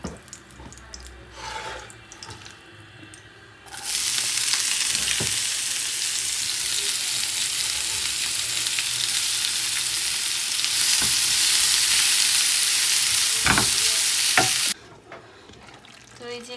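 Potatoes and eggs are stir-fried with spices in a pan, with a loud, steady sizzle that starts abruptly and runs about ten seconds, broken by occasional scraping stirs, then cuts off to quieter kitchen sounds.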